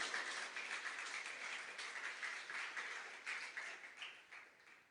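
A church congregation claps together during a sermon, a dense, steady patter of many hands that swells and fades slightly across the whole stretch, heard alone without talk.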